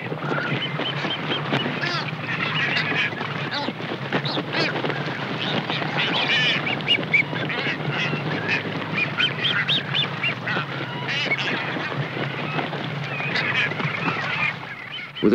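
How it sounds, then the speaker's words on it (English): Boobies, pelicans, frigatebirds and gulls squabble over fish at sea off Isabela in the Galápagos, a dense, continuous chorus of honks, squawks and quacks with sharp overlapping calls and a steady wash underneath. "Soon dozens of boobies, pelicans, frigates, and gulls are all partaking of the feast."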